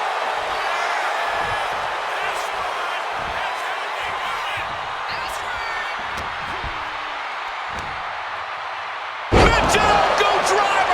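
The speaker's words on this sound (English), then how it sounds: "Michinoku driver" A wrestler is slammed to the mat with a Michinoku driver at a WCW Halloween Havoc show. A loud impact lands late, over constant crowd noise and commentary.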